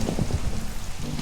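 Heavy rain in the Minecraft video game, a dense, steady patter of falling drops at moderate loudness, with no talking over it in this short stretch.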